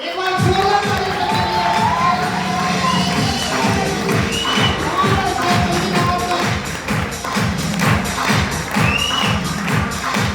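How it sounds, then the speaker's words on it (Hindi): Seminar audience in Greater Noida erupts in loud, sustained applause mixed with cheering and shouts, dense rhythmic clapping filling the hall throughout. "एक बार जोरदार ताली से"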